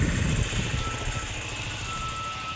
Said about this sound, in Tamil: இருங்க காய்ஸ், வண்டி வருது.